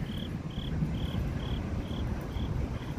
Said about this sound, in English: There, I hear crickets chirping.